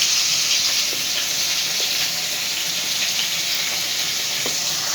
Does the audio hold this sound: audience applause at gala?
no